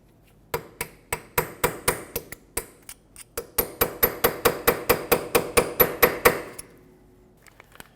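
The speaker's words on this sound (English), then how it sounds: "take a chisel and put it right into this slot of the axle, and with a hammer punch this out" Sharp metal hammer blows on a chisel driven into an axle nut slot on a 2018-2023 Subaru Crosstrek ring out close by, first spaced apart, then a quicker steady run of about a dozen strikes before stopping.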